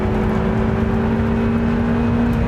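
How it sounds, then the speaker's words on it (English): Hard launch-control acceleration of a car on a quarter-mile run, a steady loud engine drone with a strong sustained tone under broadband road and exhaust noise, continuous throughout and close up, with no voices. "Run number 2 with the launch control, race, launch, give it the beans, foot off the brake, go."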